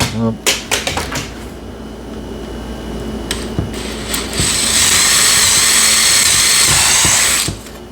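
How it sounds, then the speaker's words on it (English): A power drill whirs steadily and loudly for a few seconds drilling a hole in wood after some short taps and clicks, then cuts off abruptly. "and I drill a hole"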